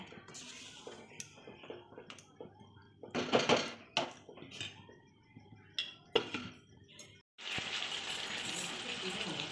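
A metal lid clanks onto a pot of chicken curry amid a few quiet kitchen knocks and taps, followed by a steady hiss of steam or sizzling, with a voice speaking briefly.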